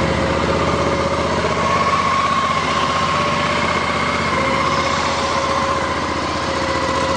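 A 2012 Suzuki V-Strom 650 ABS fuel-injected motorcycle engine idling steadily, a close, loud, even buzzing hum with no change in pace throughout.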